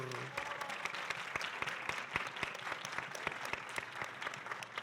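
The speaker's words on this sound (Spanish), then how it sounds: "Un aplauso, por favor." Steady audience applause at a book fair presentation in Mexico, a dense crowd of many hands clapping continuously for about five seconds, fairly close and even in loudness with no voices over it.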